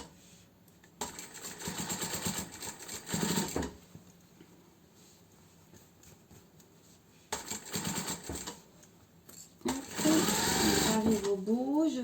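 A domestic sewing machine stitches a fabric snood in three separate runs of steady motor whirring, close and clear, with quieter gaps where someone speaks in French.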